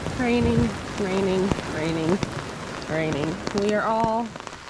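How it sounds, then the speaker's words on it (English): Rain patters steadily on a surface while a person speaks over it in several short phrases. "As you can tell, it's been raining."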